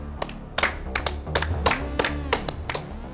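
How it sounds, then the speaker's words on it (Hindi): A few people clap in loose, separate bursts of sharp hand claps, fairly close and moderate in volume, heard over a low hum and a faint tonal background during a tense drama scene. "फंसी शेर के लिए तालियां भाई।"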